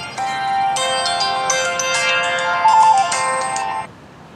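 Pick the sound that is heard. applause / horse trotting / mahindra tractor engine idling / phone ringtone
phone ringtone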